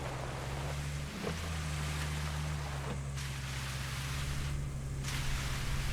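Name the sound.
Land Rover reversing sound in the video game Roadcraft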